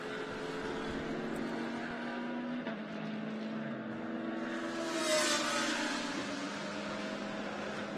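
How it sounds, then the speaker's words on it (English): Porsche GT race car in a Blancpain GT Series Asia qualifying session in Shanghai, its engine droning at a distance, then swelling into a brief whooshing pass near the pit straight before fading. "the Porsche of Darrell Young that blasts past the pits"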